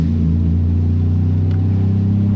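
Nissan 240SX with a freshly built, swapped RB25DET engine runs with a loud, steady low engine drone, close up and unbroken, with no talk.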